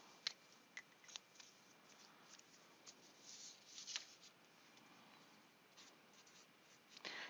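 Pen or marker strokes write out a factored math expression, making faint, close scratchy taps and short scribbles in an uneven rhythm, with a longer rubbing stroke near the end.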